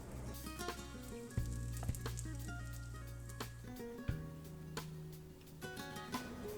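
Cabbage and egg fritters sizzle steadily in a frying pan, with a continuous fine crackle punctuated by a few louder pops and scraping taps as batter is added, no talk.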